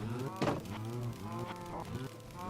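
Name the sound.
cows mooing in the video game Minecraft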